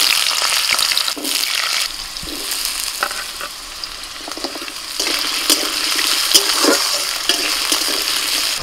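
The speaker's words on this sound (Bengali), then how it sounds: "ফোড়নটা ভাজা হলে ওর মধ্যে দিয়ে দিচ্ছি ছোট ছোট করে টুকরো করে রাখা আলু" Small potato pieces hit hot oil already tempered with bay leaf and whole cumin, giving a steady, close sizzle of frying with bursts of stirring scrapes throughout, and no one talking.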